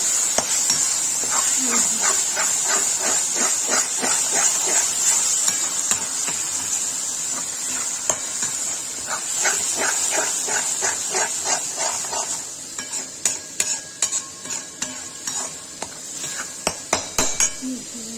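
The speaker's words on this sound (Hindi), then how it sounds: "इसमें डालेंगे टमाटर की प्यूरी। चला देंगे, इसको भून देंगे" Tomato puree stirred and fried in a pan for dhaba style matar paneer, with a constant hiss beneath rhythmic clinking spoon strokes that turn into sharper, sparser taps toward the end, close and clear.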